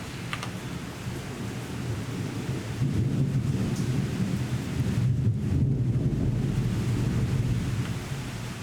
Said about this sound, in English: That's a big thunderstorm there.